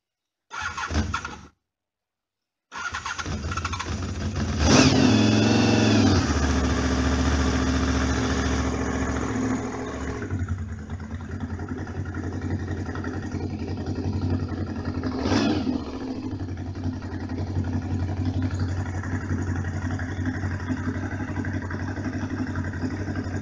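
A Honda VFR 750 RC24 motorcycle engine starting after a brief false start, then idling on choke with a steady, fairly fast throb, a couple of short blips of throttle rising above the even idle.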